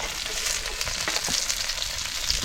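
Chicken pieces fry in hot oil with a constant, dense crackling sizzle close by, with a few stirring scrapes under it and no voices, for Kaul chicken fry.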